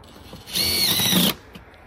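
Power drill driving a bolt through a gutter downspout strap, one close high whine that holds for under a second before cutting off.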